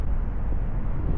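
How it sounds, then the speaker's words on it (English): Strong wind gusts buffet the microphone on an Outer Banks beach in winter, a loud, steady low roar filling the whole stretch with no talk. "It's like windy as hell."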